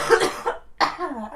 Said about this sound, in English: I'm sorry, this cough is bad.